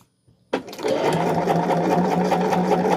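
A sewing machine starts up after a brief near-silence and then runs steadily and loudly with a continuous motor whir, no talking over it.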